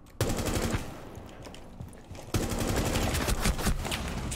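Rapid automatic gunfire in Rainbow Six Siege, a loud burst of shots, a brief lull of scattered single shots, then another sustained volley, all close and dense with no voices.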